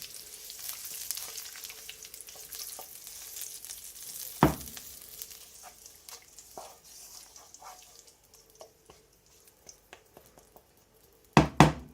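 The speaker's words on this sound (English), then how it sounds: "So I'll stir it together and I'll let you see." A mixture of avocado oil is stirred in a pot over the fire, giving a steady soft sizzle with scattered spoon scrapes, one sharp knock midway and a cluster of louder clatters near the end.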